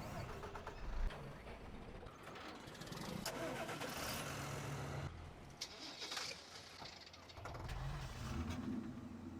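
A truck engine starts up in Farming Simulator 15, cranking and catching into a dense, steady mechanical rumble mixed with other in-game machinery noise throughout.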